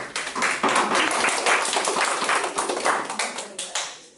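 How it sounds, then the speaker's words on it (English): A group of children at a public speaking summer camp clap together, a steady burst of applause that holds across the whole stretch at moderate loudness. "Clap it up"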